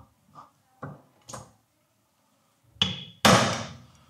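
Hammer taps on a center punch marking a drill point on metal while fitting a BGM luggage hook to a Lambretta G350: three light knocks, a pause, then two sharper, louder metallic strikes, close up with no talking.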